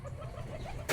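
Pigeons squabble close by in a short, continuous burst of agitated cooing and throaty clucking, ending in a sudden louder rustle.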